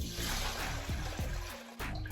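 Warm water, slightly above room temperature, pours steadily into a bowl for sourdough, a close continuous splashing trickle with no talking.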